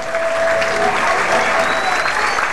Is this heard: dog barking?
no